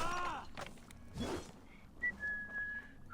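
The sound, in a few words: character whistling a tune in Assassin's Creed Valhalla video game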